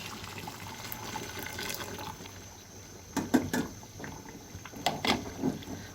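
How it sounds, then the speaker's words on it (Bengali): Two cups of hot water poured into a pot of slow-cooked beef paya (nehari) curry to make the broth: a steady, close liquid rush with a few louder splashing bursts toward the end. "এখন আমি এর মধ্যে দিয়ে দিব ঝোলের জন্য 2 কাপ পরিমাণ পানি। এটা আমি গরম পানি দিচ্ছি।"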